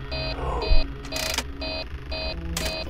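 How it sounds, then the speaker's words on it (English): Repeating electronic beeps from an alarm in the Five Nights at Freddy's horror game, sounding in a steady on-off pattern with short bursts of static between them and no talk. "Stop beeping."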